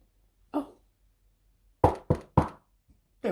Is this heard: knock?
yes